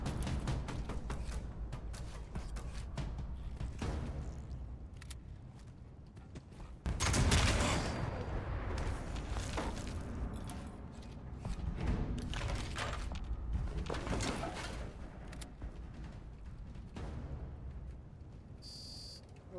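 Rapid bursts of video game gunfire crackle through a dense, busy mix, with repeated shots and one louder blast partway through, under steady game sound.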